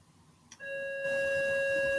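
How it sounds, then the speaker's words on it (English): A single bell chime sounds after a faint tap, its clear ringing tone sustaining steadily with bright overtones over a quiet room background. "You heard the bell."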